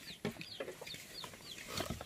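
Native Bisaya chickens cluck softly at a distance in scattered, uneven calls on a farm in Dacdacanan, San Joaquin, with faint background noise and no talking.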